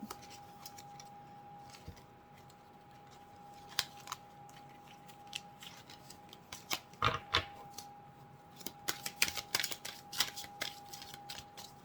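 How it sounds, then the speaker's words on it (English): Tarot cards are shuffled close by in scattered bursts of crisp riffling and flicking, growing busier toward the end over a faint steady hum. "I will go ahead and shuffle them a little bit more"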